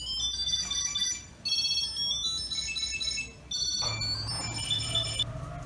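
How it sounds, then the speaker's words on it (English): A Tile Bluetooth tracker on motorcycle keys rings with a high, bright electronic chirp in repeating melodic bursts, pausing briefly between rounds, fairly close and steady. "I'm ringing your motorcycle keys"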